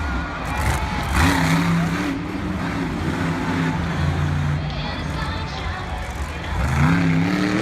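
A monster truck engine roars and revs in a steady drone as the truck spins a donut at a Monster Jam arena show in Santa Clara, 2018, with the pitch rising and falling under crowd noise and a commentator talking.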